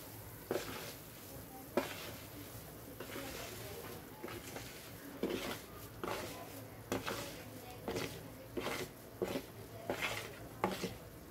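Semolina stirred into boiling water in a pot, with a spoon scraping and knocking against the pot in irregular taps over a soft bubbling bed, fairly quiet.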